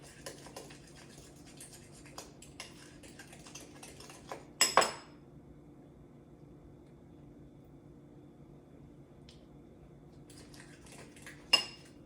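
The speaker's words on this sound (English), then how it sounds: "Just a little bit of mustard and some sweet relish. Stir that all up." A utensil stirs mustard and sweet relish into deviled quail egg filling in a bowl, giving faint, sparse scraping amid quiet room noise, with two louder clinks of metal against the bowl, one early and one near the end.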